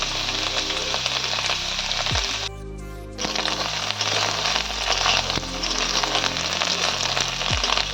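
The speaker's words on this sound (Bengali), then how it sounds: "এই অল্প তেলের মধ্যেই পনিরটা আমি ভেজে নিচ্ছি" Paneer fries in a little oil in a pan, giving a dense, steady, close sizzle with scattered crackles and a brief quieter dip partway through, and no talking.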